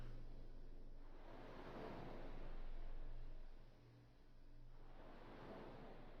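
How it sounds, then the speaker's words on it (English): Soft ocean surf swells and recedes in slow waves, a faint, distant-sounding wash heard from a sphere held to the ear in Final Fantasy X, with a low steady hum beneath and no talking. "I didn't know if you held a sphere to your ear you could hear the ocean."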